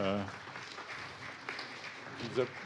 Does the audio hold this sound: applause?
yes